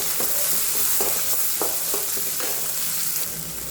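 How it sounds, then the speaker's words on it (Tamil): Onions and dried red chillies sizzle as they are sautéed in a pan, a loud continuous frying hiss with intermittent scraping strokes of a spatula, close up and without talk. "இப்போ வரமிளகாய் போட்டுக்கலாம், இப்போ வெங்காயம் போட்டுக்கலாம்,"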